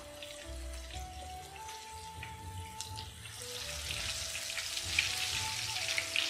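Tofu frying in hot oil until golden gives a steady sizzle that grows louder and brighter toward the end, with quiet tonal background sounds underneath.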